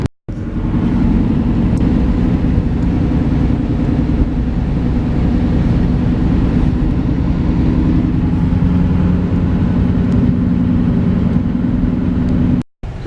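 A car idles and creeps along in slow morning commuter traffic, a steady low engine rumble with road noise filling the whole stretch, close and continuous, with no talking.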